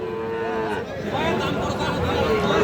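Sahiwal bull calves at a cattle market, with a loud mooing call and a few rising and falling bellows over steady crowd chatter and nearby talking.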